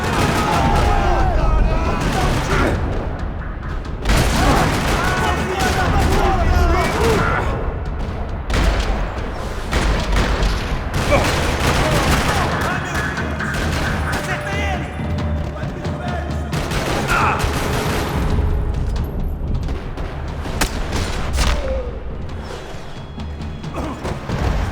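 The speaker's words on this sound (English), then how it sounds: "Another parking lot rattling with gunfire." Rapid bursts of gunfire rattle across a parking lot in Max Payne 3, with loud shots, booms and crashes sustained throughout and voices shouting over the fighting.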